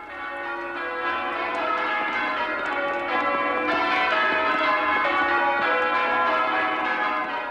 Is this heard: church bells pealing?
yes